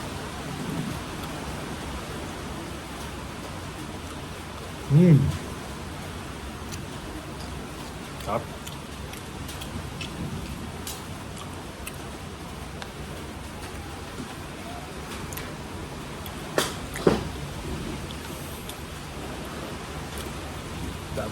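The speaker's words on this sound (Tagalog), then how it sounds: "Grabe, lakas ng ulan, lakas ng hangin." Heavy rain from a typhoon pours steadily with gusting wind, a constant broad hiss throughout, with a few nearby knocks and short bursts of speech over it.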